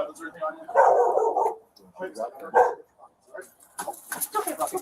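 Dog at a house during a police visit, giving a few yips and whimpering barks close by, mixed in with people talking nearby.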